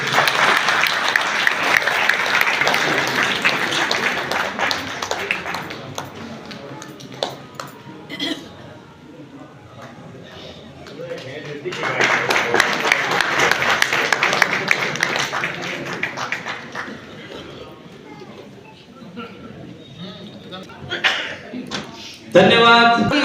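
An audience at a welcome ceremony for the Vishwakarma Jayanti celebration breaks into two long bursts of loud, sustained clapping, with a quieter lull between them. A few clinks and a short rise of noise follow at the end.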